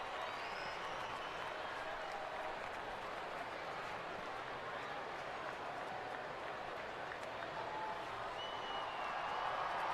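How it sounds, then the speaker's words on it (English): Large crowd at a Major League Baseball game between the Atlanta Braves and San Diego Padres cheers and applauds steadily, a dense, distant-sounding roar that swells slightly toward the end. "Big crowd getting behind Samad Taylor"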